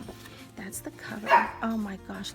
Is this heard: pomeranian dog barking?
yes